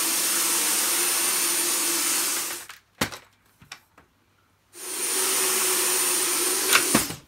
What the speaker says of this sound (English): let me finish off vacuuming the rest of this mess with it.